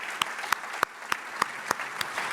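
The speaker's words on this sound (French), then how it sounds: "je propose qu'on les applaudisse" At an award ceremony for a recycling company, an audience gives light, steady applause. The crisp claps land in an even rhythm roughly every third of a second, over a soft room background.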